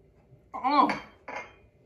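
Ginger immunity drink with elderberry mixed in a glass, with two short bursts of clinking and stirring at close range, separated by a brief pause.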